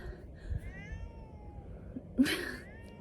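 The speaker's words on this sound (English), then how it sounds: "Sorry if you can hear my cat in the background." A cat meows faintly in the background with a drawn-out, wavering cry, then a short louder yowl near the end over a low hum.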